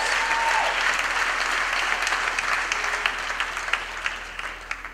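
Graduation ceremony audience at VUT Main Campus applauding the spouses, a broad sustained round of clapping that is fairly loud at first and gradually thins and fades, with a few sharper claps near the end.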